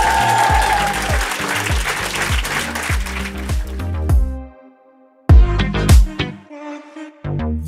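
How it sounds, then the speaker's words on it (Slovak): Audience applause at a live comedy show, loud dense clapping that swells then fades out abruptly, followed by a brief second burst of claps after a short silence. "tento potlesk je tvoj a bude trvať"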